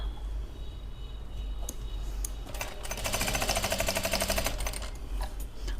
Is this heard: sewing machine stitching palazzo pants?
yes